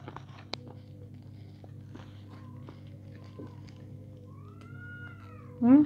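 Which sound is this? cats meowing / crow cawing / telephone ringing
cats meowing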